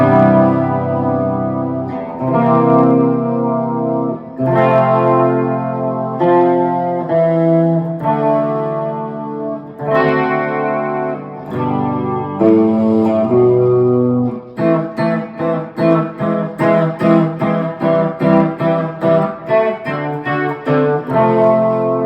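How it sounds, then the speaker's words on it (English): An Epiphone 1959 ES 355 reissue electric guitar played through a Vox AC30 amp with chorus and delay, ringing chords at first, then a faster run of rhythmic picked notes, loud and continuous with no talking. "I'm playing through the Vox AC30 and the PV6505. I'm going through my effects pedal. I have some chorus and delay on"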